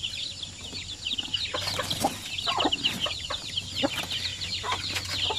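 Native chickens of Basilan and Zampen breeds clucking and calling repeatedly at close range on a farm, with chirping birds and a steady rural hum behind them.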